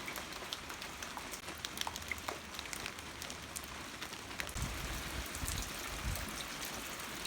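Steady rain falls for about two hours over a farm in mid-February, where ice still lingers on a tub and on the ponds. It is a continuous outdoor patter with scattered sharper drops. It carries on alone, with no voices.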